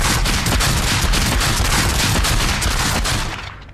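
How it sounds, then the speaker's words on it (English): Matador shotgun pistols fire rapidly in the shooter game Population One, a loud, dense, unbroken barrage of close gunshots lasting several seconds before quickly fading out. "we've got the Matador shotgun pistol thingies"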